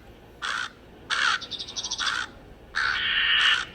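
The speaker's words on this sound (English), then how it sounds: "Plus 26 crows who were renting upstairs." Several crows caw loudly from a Christmas tree in a storybook setting, harsh calls arriving in three bursts, the middle one breaking into a quick stuttering run of rapid caws, with no talk.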